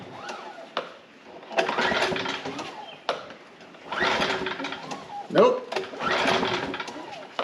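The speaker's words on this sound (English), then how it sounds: "Choke. Pull cord. How many pulls is it going to take?" Near a petrol inverter generator, a pull cord is yanked several times in separate rasping bursts, the engine sputtering as it tries to start, with someone speaking briefly between pulls.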